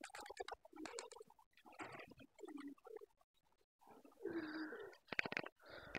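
Pigeons coo in short, low, throaty phrases near a roost in a tree, with faint chirps and scattered rustling between calls.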